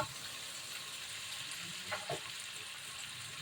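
Carrots frying in a pan for pancit sotanghon, a steady soft sizzle of oil with faint stirring clicks and scrapes, no talking.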